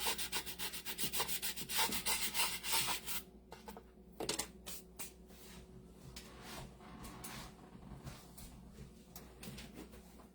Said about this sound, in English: So I'm going to do a little bit more distressing here